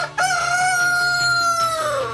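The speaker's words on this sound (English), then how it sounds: "seeing and hearing chickens and roosters again transported us back to the Philippines" Roosters and chickens crowing in the Philippines, a single long, loud crow carrying close and clear from about a quarter second in, with faint clucking beneath it.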